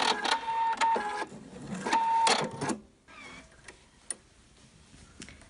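A sewing machine stitches a seam on a homemade Santa hat in two clear whirring bursts with rhythmic clicking, then falls quieter with scattered small ticks and handling sounds.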